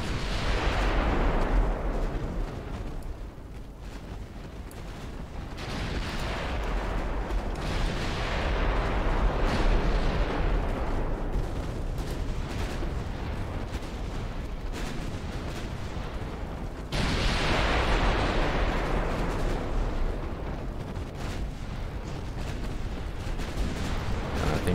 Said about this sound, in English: I think her torpedoes exploded